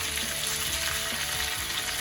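Steady loud sizzle and crackle of a ribeye steak frying in a pan while it is basted with thyme, rosemary and garlic butter, continuous close spattering with no talking.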